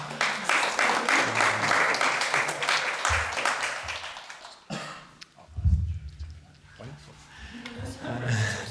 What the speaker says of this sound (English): Maybe you can give yourselves a round of applause for being here.